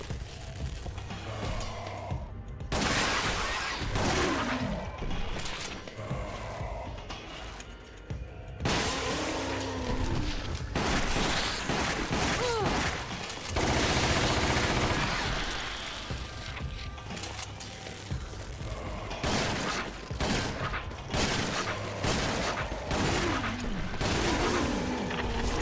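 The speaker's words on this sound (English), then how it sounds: "Shotgun." Shotgun blasts in the Resident Evil Umbrella Chronicles shooting game, heavy booming shots fired in rapid clusters across a long stretch, loud and close amid other game effects, with no voices.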